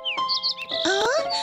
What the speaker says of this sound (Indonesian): Burung yang sama seperti kemarin.